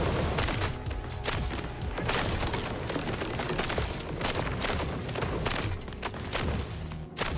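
Gunfire rattles during a boss fight in the ODDCORE video game, with rapid, loud bursts of shots and thuds that form a dense, steady barrage across the whole stretch.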